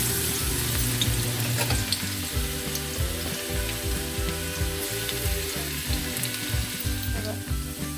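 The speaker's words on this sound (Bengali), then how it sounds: "যে তেলটা একটু গরম হয়ে যাবে ওই রসুনটা দিয়ে দেবো" Garlic dropped into hot oil for a Kolkata-style chicken gravy chow mein, a dense continuous sizzle with rapid rhythmic metallic scraping and stirring running through it.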